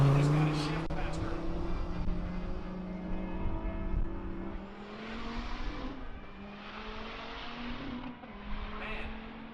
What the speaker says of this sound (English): after listening to all the Lambos and GTRs shift in no time, the manual cars are like, wah, wah